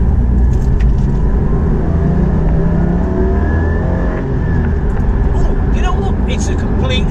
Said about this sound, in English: It's a completely different growl. The engine noise is very different to the 981.